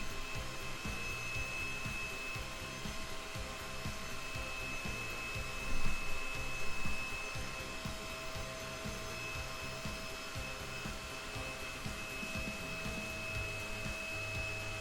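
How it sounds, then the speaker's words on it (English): Hair dryer running steadily at close range, a constant whirring blow with a steady tone that holds throughout, briefly louder for a moment midway, with no talking over it. "sorry for the hair dryer"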